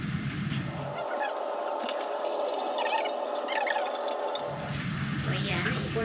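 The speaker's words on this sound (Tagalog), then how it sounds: "Naipon ang tubig." Tap water running into a sink filled for hand-washing laundry in a Manila quarantine room: a steady, close rushing and splashing that continues throughout, with a low rumble dropping out midway.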